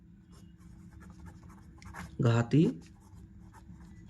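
A pen writes out a quadratic-formula math solution on paper, with two short, loud scratching bursts close by as someone talks in Hindi.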